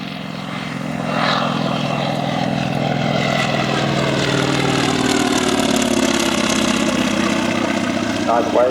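CAC Wirraway propeller aircraft making a low pass at an air race, its radial engine drone swelling after the first second and holding steady and loud, with a rising and falling tone as it passes overhead.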